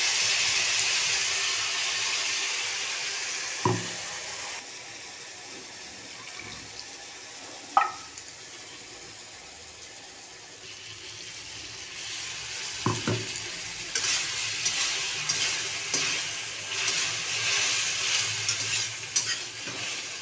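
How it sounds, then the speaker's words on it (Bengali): Potatoes and ground spices for a tilapia fish curry are sautéed in a pan, a low steady sizzle punctuated by a few sharp scrapes and knocks of a spatula, growing busier toward the end, with no talking. "ভালোভাবে আলুর সাথে মশলাটাকে কষিয়ে নেব"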